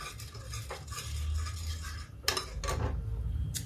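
A spoon smears cream (malai) across a pan on a home stove before fasting-day water chestnut flour lapsi is cooked, giving soft close scraping and stirring strokes with a few sharper metal scrapes over a low background hum.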